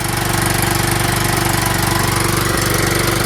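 A Kohler engine repowering a John Deere LT160 lawn tractor runs loud and close at a steady idle, with an even, rapid pulsing throb throughout and no talking.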